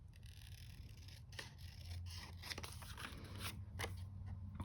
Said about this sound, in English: We'll just use our scissors.